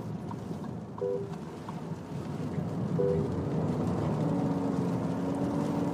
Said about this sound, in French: En mode sport, on peut clairement entendre un peu plus le moteur